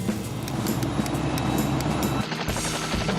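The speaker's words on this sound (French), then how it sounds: "Je suis dans l'hélicoptère" A cartoon fire-rescue helicopter from Sam le Pompier flies with a loud, steady engine whir and a rapid rotor chop that fills the whole clip, dipping briefly near the end.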